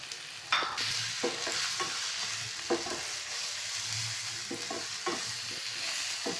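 Spices, ginger, garlic and dry red chili frying in a pan with coriander, cumin, chili and turmeric powders, a steady close sizzle broken by repeated scraping stir strokes, with no talk.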